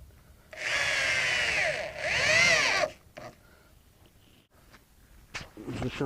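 Two sustained whirring bursts from a power drill driving screws into the undercarriage of a tiny house, followed by scattered knocks and handling noises.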